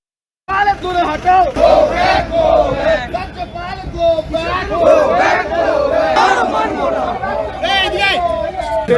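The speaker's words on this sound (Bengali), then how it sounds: "প্ল্যাকার্ড হাতে রাজ্যপাল দূর হাটো স্লোগান দিয়েও সরব হয় তারা" Protesting students holding placards chant slogans against the state governor, a loud, close crowd of voices shouting in rhythmic unison throughout.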